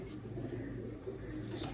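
A pair of pigeons, a basic shikra female with a Dub Wala male, coo softly. The low, rolling calls sit under a steady, close background hiss.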